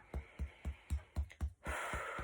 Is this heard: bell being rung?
no